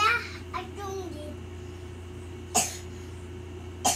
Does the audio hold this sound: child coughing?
yes